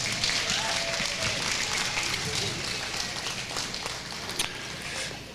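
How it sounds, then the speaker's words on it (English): Audience applause in an arena at the Rodeo Austin Livestock Show market steer judging, a broad, steady patter of many hands heard from a distance, with crowd noise and a faint voice underneath. "Please give Lorelei a big round of applause."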